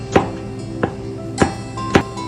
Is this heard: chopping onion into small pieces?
yes